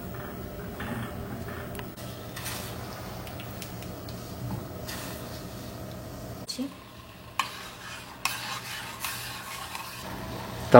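Sugar and water being stirred in a pan as the sugar melts into a simple syrup for chonge snacks, a soft steady scraping and swirling with faint sizzle, punctuated near the end by a few sharper spoon clicks against the pan.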